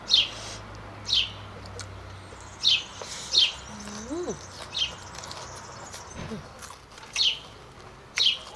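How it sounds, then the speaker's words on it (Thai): Birds singing outdoors in a Thai garden, short bright chirps repeating every second or so, fairly near and clear over a faint background hum, with a few lower cooing or whistled notes in between. "นี่เสียงนก"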